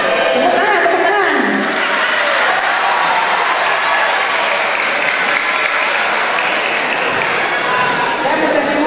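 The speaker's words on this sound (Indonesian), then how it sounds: "Tepuk tangan, tepuk tangan." Dense, loud applause from a crowd at a motivation seminar in an Islamic boarding school, a continuous wash of clapping lasting the whole stretch, with voices faintly underneath.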